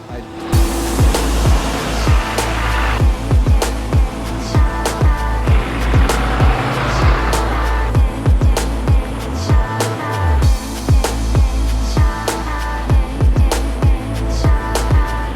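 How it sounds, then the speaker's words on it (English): Prospector XL overland vehicle on solid axles and springs with big tires, driving a dirt road off pavement in Death Valley; steady loud rumble of engine and tires with repeated bumps and rattles throughout, no talking. "I cannot believe how insanely good this thing drives off pavement"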